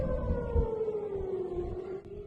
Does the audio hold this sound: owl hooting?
no